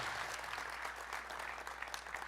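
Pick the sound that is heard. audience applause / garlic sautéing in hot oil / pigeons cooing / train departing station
audience applause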